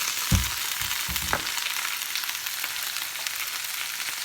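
Brussels sprouts sizzle in a cast iron pan, a steady broadband frying hiss running throughout, with a couple of brief low knocks or stirs near the start and no talking.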